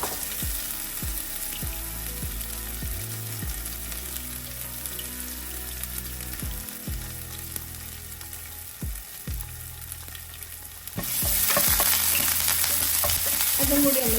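Cumin seeds, ginger and garlic sauté in a pan for masala dosa filling, a low steady sizzle with repeated scraping strokes of a spoon, the frying swelling louder near the end.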